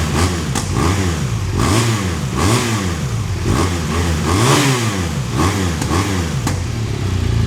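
A BMW R1200 GS boxer twin motorcycle engine revved repeatedly in a series of sharp throttle blips, each rising and falling in pitch, loud and close with a steady idle between blips.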